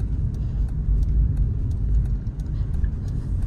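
A car drives along a road with a steady, close, low rumble of engine and tyre noise that continues unbroken throughout, with no voices.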